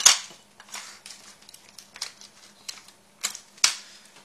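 Scotch tape pulled and torn in short crackling bursts while handling window tint film for mirror-tinting gas mask lenses, several sharp rips spaced irregularly, close and fairly loud, with no talking.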